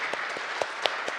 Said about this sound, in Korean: 우리 주일학교 어린이들에게 축복의 박수를 보내겠습니다